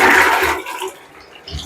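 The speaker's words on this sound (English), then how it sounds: "Let's give it a partial flush." A newly fitted toilet given a partial flush: a loud, close rush of water that quickly fades into a quieter gurgle and refill hiss.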